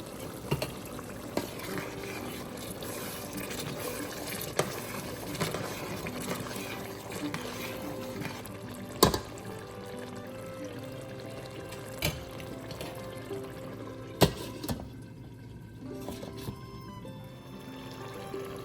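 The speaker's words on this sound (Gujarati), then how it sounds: "મસાલા દાજે નહીં એટલે થોડું પાણી એડ કરીએ અંદર." Water is poured into a pan of tomato and spice masala cooking on medium gas, a soft continuous pouring and bubbling wash broken by occasional sharp clinks and taps, close by and fairly quiet.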